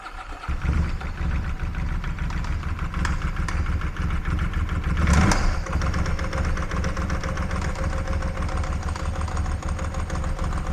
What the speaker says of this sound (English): the good news is the bike starts